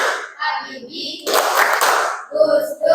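Chanting voices alternate with a sudden loud burst of many hands clapping together in a group clapping game, after which the clapping gives way to a voice chanting again.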